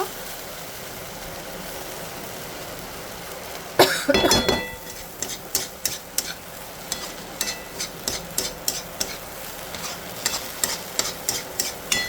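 Cabbage curry stir-fried in a pan in an Andhra kitchen: a steady low sizzle, then a burst of scraping followed by regular spatula strokes against the pan, each stroke a short clatter, with no talking.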